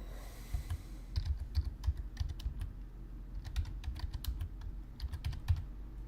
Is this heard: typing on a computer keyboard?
yes